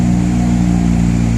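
Infiniti Q50 with a boosted six-cylinder, automatic transmission and resonated exhaust, giving a steady, loud, low engine drone that holds an even pitch throughout with no talk over it.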